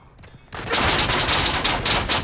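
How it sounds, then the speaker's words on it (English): A rapid-fire shredder weapon in a video game fires a dense, continuous rattling stream of shots after a short quiet lead-in, close and loud. "Not with the shredder!"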